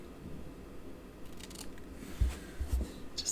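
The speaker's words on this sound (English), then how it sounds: "Ribbon scissors." Ribbon scissors snip ribbon while a birthday card gift box is being made, giving a few quiet, close, crisp cuts late in the stretch after near silence.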